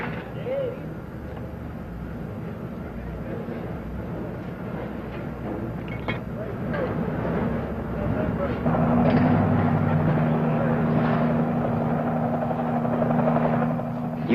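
A helicopter flies at night over a naval supply ship during replenishment at sea, carrying a heavy slung load; a steady rotor and engine drone persists throughout, growing louder and nearer in the latter half.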